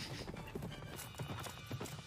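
Rapid clip-clop of a galloping horse with a brief whinny, rhythmic hoofbeats under dense background sound from an episode of Berserk: The Golden Age Arc, with voices faintly mixed in.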